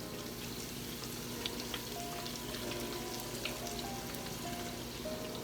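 Flour goes into a sizzling pan of softened onions and butter for a from-scratch alfredo sauce, producing a steady close frying hiss with faint crackles and a low hum underneath.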